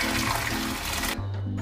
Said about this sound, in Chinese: 来，我们倒入开水。